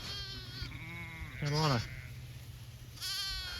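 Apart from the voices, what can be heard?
sheep bleating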